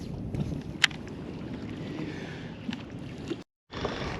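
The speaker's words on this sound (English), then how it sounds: "it's real windy right now" Strong wind buffets a boat on Folsom Lake during bass fishing, a steady loud rushing roar with a brief knock near the start and a short dropout to silence near the end.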